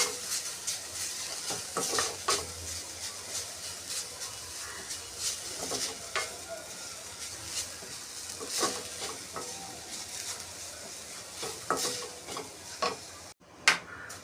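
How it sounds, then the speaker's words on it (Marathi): Grated coconut roasting in ghee in a pan over a low flame for coconut barfi, a gentle steady sizzle broken by repeated spatula scrapes and light clinks against the pan, with no voices. "आणि याच्यात मस्त आपण छानपैकी आपलं खोबरं मस्त भाजून घेणार आहोत आणि स्लो गॅसवर आपण भाजून घेणार आहोत"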